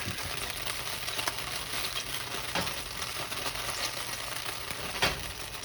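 Onion and garlic sizzling in hot oil in a pan, a steady crackling fry with scattered sharper pops, moderately close and without talk.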